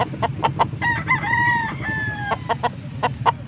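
Young roosters (stags) crow at a market in Angeles, Pampanga, several long cock-a-doodle-doo calls overlapping with sharp clucks and short crows, loud and close over a steady murmur of market noise and people talking.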